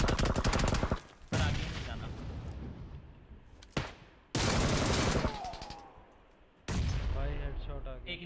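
Dense bursts of rapid automatic gunfire in PUBG Lite come in three long loud volleys separated by short lulls, with a player's voice talking faintly underneath.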